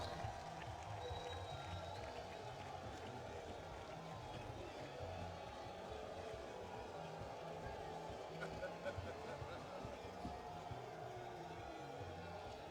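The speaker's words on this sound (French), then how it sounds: "sous vos applaudissements" Faint, distant applause and crowd noise rise from a party congress hall as a delegation is announced, a continuous wash of clapping with voices talking through it.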